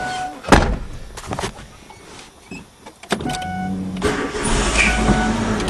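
A 2003 Kia Rio after a clutch replacement, heard as a few clunks and mechanical whirs before the engine catches and settles into a steady, close idle hum.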